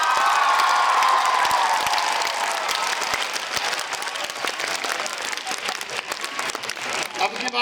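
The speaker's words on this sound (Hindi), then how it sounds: "अब की बार तो आपने फालतू तालियां बजा दी" A school annual function audience claps loudly and steadily, a dense wash of applause with some cheering and children's shouts mixed in, continuous for several seconds.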